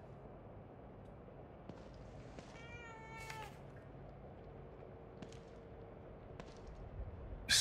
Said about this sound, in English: I don't ever remember owning a cat.